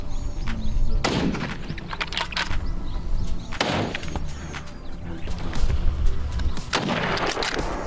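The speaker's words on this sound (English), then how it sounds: "More shots followed in quick succession, taking down several others." Rifle shots during a wild boar hunt on a small farm crack out in quick succession, three loud sharp reports spaced a few seconds apart over a noisy outdoor background.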